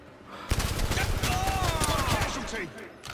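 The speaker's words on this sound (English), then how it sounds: "Now I got a machine gun" Rapid machine gun fire in the VR shooter game Blood and Truth: a dense, sustained burst of loud, closely spaced shots for about two seconds, with faint background sounds around it.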